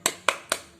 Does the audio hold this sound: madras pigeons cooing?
no